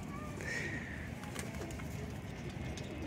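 Pigeons coo softly amid a steady, noisy background, with low repeated cooing phrases running through and faint higher bird calls now and then; no speech.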